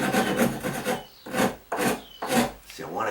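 A concave wood rasp shaves the bottom edge of a wooden door, making four long, coarse scraping strokes up close, each separated by a brief pause.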